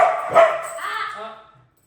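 A single dog barks close by, a short bark trailing off into a whine, then quiet.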